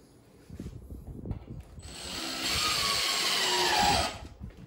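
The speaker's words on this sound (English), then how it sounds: "you want those screws to go down into the drywall a bit so you can fill them in" A power drill drives screws into drywall during a patch repair, a faint whir that builds into a steady, louder high whine for a couple of seconds before cutting off, with no talk over it.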